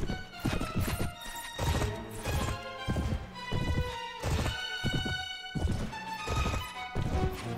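Horse hooves galloping in the Mount & Blade: Warband video game, a steady rapid drumming of loud close hoofbeats with battle clatter, no talk.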